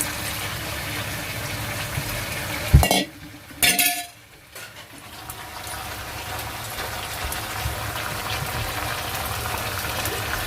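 Water is poured into a pan of browned chicken on the stove after a short clink and splash, followed by a steady hissing simmer.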